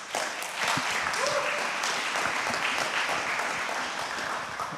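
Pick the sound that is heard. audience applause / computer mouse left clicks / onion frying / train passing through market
audience applause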